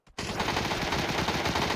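Rapid automatic gunfire in the video game PUBG, a steady close burst of shots that starts abruptly after a brief pause and runs without a break.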